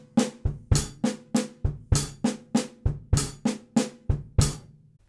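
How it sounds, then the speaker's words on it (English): Slow drum groove on a kit: kick and snare struck together as 16th notes over steady 8th-note hi-hats, about a dozen evenly spaced hits, loud and close with no talking. "we're gonna be doing those as 16th notes simultaneously with 8th note hi-hats"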